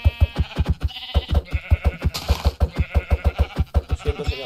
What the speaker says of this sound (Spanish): Señora oveja